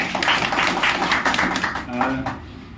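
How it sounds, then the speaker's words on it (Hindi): An audience claps at a marketing gathering, a dense rattle of many hands that is loud at first and thins toward the end, with a voice speaking over it. "अच्छा है, जोरदार ताली हो जाए।"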